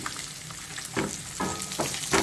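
Shallots sauté with fried garlic for sambar in a pan, a steady close sizzle with a few soft bursts as the pieces are stirred.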